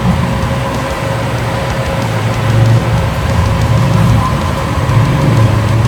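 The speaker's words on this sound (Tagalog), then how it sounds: "Medyo maingay na yung fan." Steady, loud whoosh of a Llano V12 laptop cooler fan turned up to about 2,000 RPM, a broad continuous rushing hum with a low drone that swells slightly partway through, heard alone without speech.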